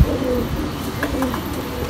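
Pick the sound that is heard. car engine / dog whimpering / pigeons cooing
pigeons cooing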